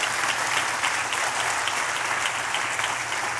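A church congregation claps in loud, steady applause that holds evenly for a few seconds, with a faint hum running underneath.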